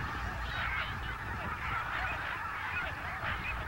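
Geese honking in a wetland, a steady chorus of overlapping honks and calls from many birds at a moderate distance, continuous and fairly even in loudness.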